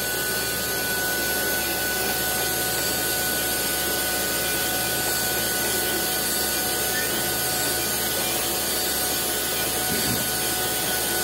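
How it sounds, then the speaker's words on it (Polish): A grinding machine regrinds a damaged connecting rod from a Beta engine, a steady, loud broadband whir and hum running continuously with no pauses. "No i szlifujemy."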